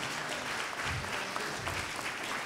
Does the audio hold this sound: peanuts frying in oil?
no